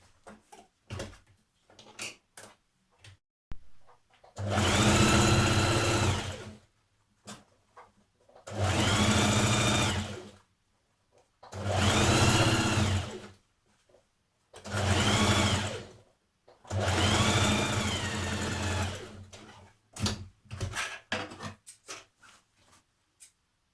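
A sewing machine stitches fabric legs together for a dress-to-playsuit refashion, running in five steady bursts of several seconds each, close and loud, separated by short quiet pauses with light handling noises.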